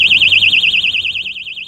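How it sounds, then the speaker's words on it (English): XENA XX14 motorcycle disc-lock alarm shrieking up close, a loud, fast warbling electronic siren pulsing steadily and continuously with no pause. "the alarm will sound for about 15 seconds"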